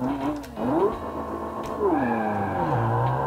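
Idling engine of the Piranha 75TB car in the Automation game, a warbling, glitchy electronic tone with rising and falling sweeps, steady and fairly quiet with no talking.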